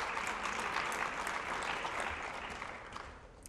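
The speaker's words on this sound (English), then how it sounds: "You can give them applause." Audience applause at a science fair awards ceremony, a dense, fairly distant wash of many hands clapping that holds steady, then gradually thins out.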